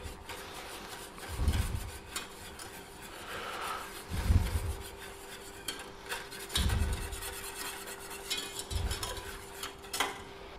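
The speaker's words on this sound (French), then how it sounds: "Mélangez le lait pour éviter qu'il n'attache au fond de la casserole." A spoon stirs milk in a saucepan in slow, periodic strokes, soft scraping sounds repeating about every two seconds under a faint steady hum.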